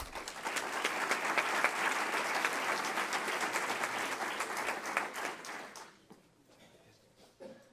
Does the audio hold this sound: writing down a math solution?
no